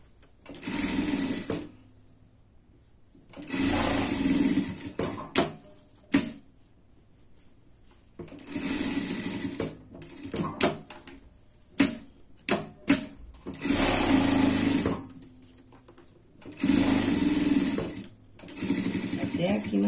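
A sewing machine stitches a pet harness in several loud bursts of running, each a few seconds long, separated by short pauses and brief handling noises.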